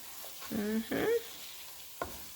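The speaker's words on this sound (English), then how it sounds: "I'm just gonna go ahead and keep stirring it and kind of cook that spice down." Spices, garlic and ginger for Ethiopian doro wat being stirred in a pot, with a few faint scrapes and soft clinks of the spoon over a quiet low sizzle, close but subdued.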